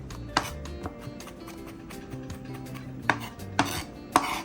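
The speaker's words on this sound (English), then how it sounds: "Just go ahead and give them a nice little chop" Knife chopping food on a cutting board in a home kitchen while making creamy chicken pasta, a handful of sharp, separate knocks spaced irregularly over a low steady background.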